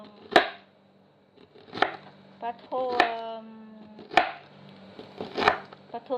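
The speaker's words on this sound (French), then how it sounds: "Et je vais couper en tranches." Several crisp knife cuts through purslane on a board for an exotic salad, spaced about a second apart, close and clear, with a voice speaking between strokes.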